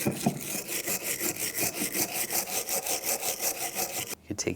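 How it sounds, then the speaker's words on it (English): A wire brush scrubs corrosion off a rear brake caliper bracket from a 2009-2013 BMW 328i xDrive, making rhythmic, harsh scraping strokes close to the microphone that halt briefly near the end. "Take the bracket, you want to clean this up, just use a wire brush."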